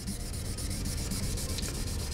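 Steady, gritty scratching of sandpaper rubbing back and forth, close and continuous with no pauses.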